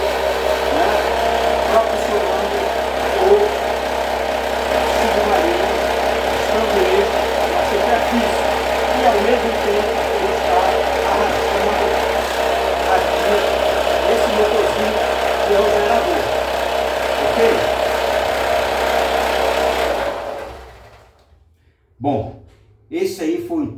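Homemade diesel-electric submarine propulsion prototype running with a steady, close mechanical hum and rattle for about twenty seconds, then cutting out into near quiet with a few brief knocks.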